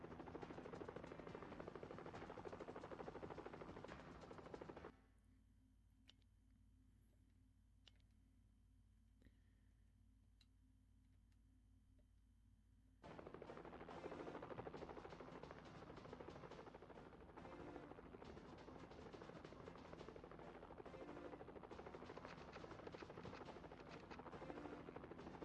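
A steady, dense helicopter rotor drone fills the scene in a video game, dropping out abruptly for several seconds before returning at full loudness, with faint clicks throughout.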